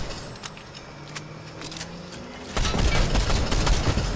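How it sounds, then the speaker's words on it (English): Rockets fired in Fortnite: a loud, dense burst of blasts and rushing noise that rises suddenly midway and keeps pounding, following quieter scattered clicks and a faint rising whine. "Oh, he's shooting rockets."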